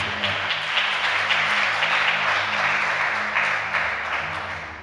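A church congregation applauding during a service, a steady crowd of clapping hands sustained for several seconds at even strength, fading slightly toward the end.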